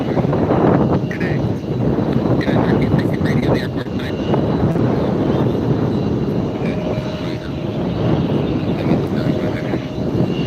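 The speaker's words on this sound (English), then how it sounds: "Delta taxiing up." A Delta airliner taxis at LAX airport with a loud, steady jet engine rumble and whine close by, joined by wind buffeting on the microphone and a faint high tone later on.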